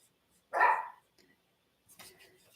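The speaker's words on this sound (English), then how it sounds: "and she is barking" A dog lets out one sharp, close bark indoors, followed after a pause by a fainter, rougher yip or scuffle.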